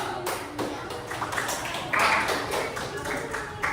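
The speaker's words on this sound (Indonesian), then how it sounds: "Oke, tepuk tangan buat kelompok 4." A class claps for student group 4, a dense wash of many hands clapping steadily at close range throughout, swelling louder partway through, with no speech over it.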